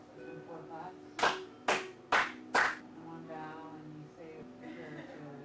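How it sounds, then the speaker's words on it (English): Four sharp ceremonial hand claps in an even, measured rhythm during a prayer at a Divine Light ceremony, close and distinct, with quiet voices murmuring around them. "And it's 1 more bow, and 4 claps."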